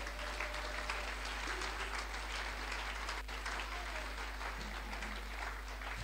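Church congregation applauding for the glory of God, a steady, dense wash of clapping that holds evenly throughout at moderate level.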